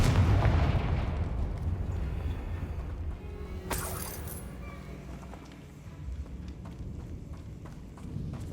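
A Confringo blasting spell explodes in Hogwarts Legacy, a loud burst rolling over a dense rumbling game soundscape with a sharp crack midway and steady background noise throughout.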